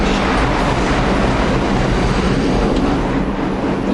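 Subway train running at speed, a loud continuous rumbling roar with faint rail clatter heard from inside the car, steady throughout.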